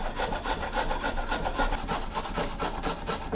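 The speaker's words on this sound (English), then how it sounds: "I don't want to grate any more carrots" Carrots being grated by hand in a home kitchen, a steady rhythmic rasping and scraping that repeats quickly and evenly at close range, with no talking.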